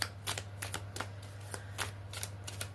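Tarot cards riffle and slap in quick, close shuffling bursts, a steady stream of crisp flicks over a low constant hum.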